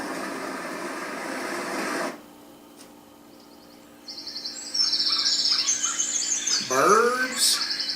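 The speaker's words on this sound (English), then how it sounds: "singing birds it says" A Letsfit white noise machine plays a singing-birds track: after a stretch of other noise and a quiet gap, bright chirps and tweets rise over a steady hiss.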